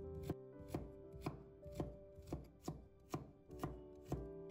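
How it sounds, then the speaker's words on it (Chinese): A knife slicing peeled fresh ginger on a cutting board, then cutting it into thin strips, a close, steady run of about nine evenly spaced chops with no talking. "先把它切片， 再给它切成姜丝，"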